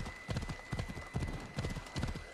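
Horse gallops in Assassin's Creed Odyssey, a quick, rhythmic run of hoofbeats in groups, soft and close, with no talking over it.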